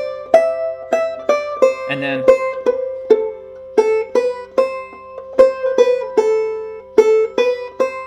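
A clawhammer banjo works through the A part of Snowdrop, a simple melody filled in with bum-ditty strums, its plucked notes evenly spaced and close; a voice briefly speaks once partway through.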